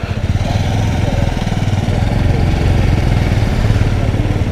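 A motorcycle engine runs steadily and close on a bike ride from Bilaspur to Amarkantak near the Madhya Pradesh border, with a constant low throbbing drone and a rapid pulsing beat throughout.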